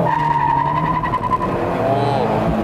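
A sports car engine roars steadily and loudly up close, revving with power as the vehicle accelerates through 80 to 100 km/h, with a brief squeal of tires.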